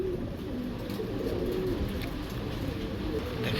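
Imported pigeons coo softly in a market setting, low repeated throaty calls over a steady background murmur, close but not loud, with no clear speech.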